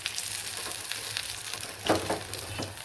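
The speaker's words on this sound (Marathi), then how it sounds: "बघा मच्छी आपली छान तळून झाली आहे, एकदम कडक." Katla fish pieces frying crisp in hot oil, a soft, even crackle and hiss throughout with a slightly stronger burst of sizzle near the end, fairly quiet and close, no talking.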